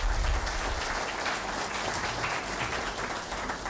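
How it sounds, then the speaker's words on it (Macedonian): An audience claps together at a book launch event, a dense, steady round of applause that holds evenly from start to finish with no voices over it. "Еден аплауз за сите добронамерни луѓе."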